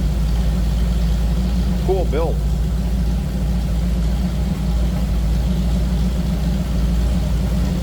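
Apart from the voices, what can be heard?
1930 Ford Model A Roadster dual exhaust engine rumble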